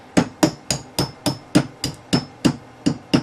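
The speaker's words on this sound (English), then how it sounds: "Punch block, go ahead and tap the pin out" Sharp metallic taps of a punch driving a pin out of an AK47 bolt on a punch block, about a dozen evenly spaced strikes in steady rhythm, close and clear with no talking.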